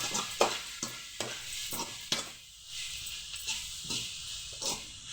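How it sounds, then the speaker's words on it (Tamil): Tomato and mint chutney mixture seasoned with chili powder and salt, sautéing in a pan: a steady soft sizzle with repeated scraping stirs of a spoon, close and fairly quiet. "தேவையான அளவு உப்பு போட்டு ஒரு வதக்கி எடுத்து இறக்கிடணும்"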